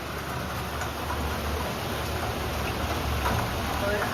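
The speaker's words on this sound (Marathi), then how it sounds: "आणि बघा काहीच पाऊस आला" Steady rain patters and hisses evenly throughout, a dense, unbroken wash of sound with no clear pauses.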